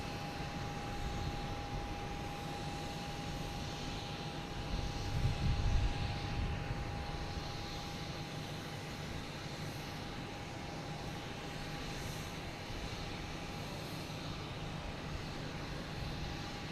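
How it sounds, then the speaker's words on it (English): Airliners landing at Boston Logan Airport produce a steady, distant jet roar across the whole stretch, swelling slightly at one point, with no voices. "Yeah, they're landing 27 and 22."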